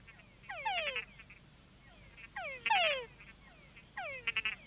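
Frog calls play back in a flight cage for bats, three rhythmic calls each made of a descending whine followed by chuck-like clicks, evenly spaced over steady low background hum.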